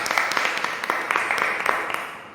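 Rhythmic clapping from worshippers at a prayer meeting, a fairly close group clapping in a steady beat with sharp, evenly spaced accents that tapers off slightly toward the end.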